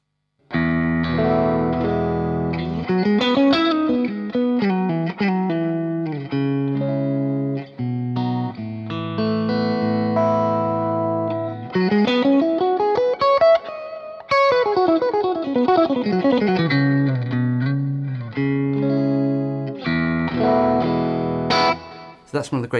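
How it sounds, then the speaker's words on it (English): Electric guitar through a Mesa Boogie MKII C+ amp with the shift switch engaged for a mid-forward tone, playing continuous melodic runs and bends, loud and close throughout. "The shift switch really pushes the mids forward, so you get more of that sort of mid forward or dumble tone"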